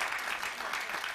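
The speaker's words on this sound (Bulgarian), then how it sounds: "Чух ли аплодисменти, Дон Корлеоне?" Studio audience clapping during a Bulgarian late-night comedy show, an even, sustained patter of many hands at moderate level throughout, with no clear voice above it.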